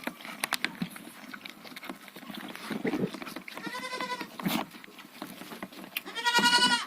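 Goat kids bleating loudly while being bottle-fed powdered milk, with scattered shuffling and patter around them and two strong, drawn-out bleats standing out near the middle and end.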